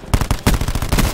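A 9-bang stun grenade in Black Ops 4 pops off in a rapid series of sharp, loud bangs, about nine evenly spaced blasts packed into just over a second.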